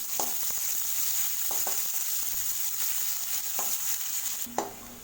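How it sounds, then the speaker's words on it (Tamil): Sliced onion sautéing with cumin in hot oil for a kurma: a steady, close sizzle with a few soft clicks from stirring. "சேர்த்துட்டு வெங்காயத்தை வதக்கி விட்டுக்கலாம்."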